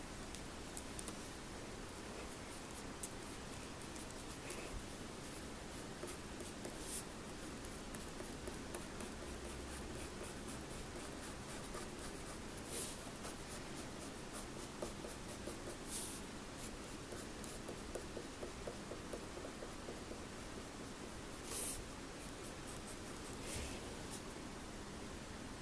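Black colour pencil scratches across paper while drawing a cartoon bat, a faint, continuous soft scraping with occasional light taps and ticks, heard alone in a quiet room.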